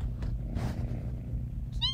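A cat meows once near the end, a short clear harmonic call rising over a low background rumble, preceded by faint indistinct noises.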